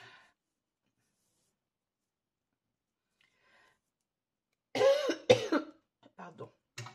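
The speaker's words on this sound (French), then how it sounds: "je tousse moins, mais je tousse toujours" A woman coughs a few times, sharp and close, after a long stretch of near silence, with a faint rustle near the start.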